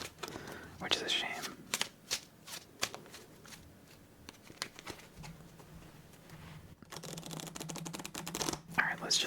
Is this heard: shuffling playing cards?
yes